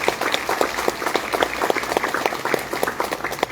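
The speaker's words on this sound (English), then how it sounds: "Let's give Nick a round of applause for what he's done." An outdoor crowd applauds at a clock tower rededication ceremony, individual claps standing out clearly over a sparse, steady patter from a modest audience.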